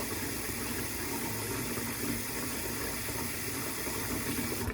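Hot water runs steadily from a kitchen tap during dishwashing, a continuous hissing, splashing flow heard close and alone.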